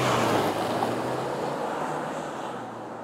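Steady road and wind rumble inside a Tank 300 off-road SUV on the move, a continuous broadband whoosh that fades slightly toward the end, no talking.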